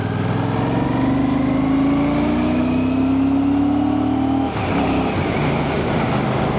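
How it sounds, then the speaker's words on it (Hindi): A Royal Enfield Classic 650 motorcycle cruises steadily in sixth gear at about 80, its engine drone smooth and continuous under heavy wind rush, with a slight pitch dip near the end. "ये मैं 6th गियर में हूँ और क्या मक्खन तरीके से क्रूज़ कर रही है 80 पे ये गाड़ी"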